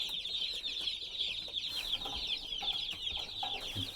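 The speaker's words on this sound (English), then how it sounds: "Baby chickens, the cutest little things ever." Baby meat-bird chicks peep constantly in a high, busy chorus, many small voices overlapping close by with soft rustling beneath.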